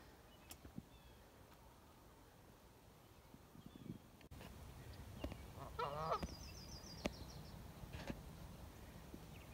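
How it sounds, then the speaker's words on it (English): An upset wild goose honks in front of a foggy lakeside kayak campsite, giving faint distant calls in a short burst midway through over quiet outdoor ambience. "I have a very upset goose in front of my site."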